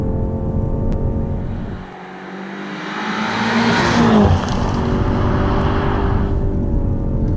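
A 2020 BMW M5 Competition sedan engine roars and revs loudly, dipping briefly then surging again, with a steady mechanical drone continuing throughout.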